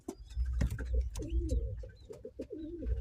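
Pigeons coo repeatedly in a color-breeding loft, low throaty rolling calls overlapping in quick succession, close and fairly loud over a dense background of birds shuffling and faint chirps.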